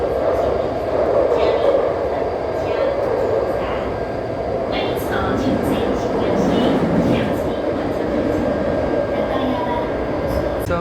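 Steady loud interior rumble of an MRT metro train running during a COVID-19 lockdown, continuous wheel and motor roar throughout with faint hiss and brief higher squeals, a voice talking over it.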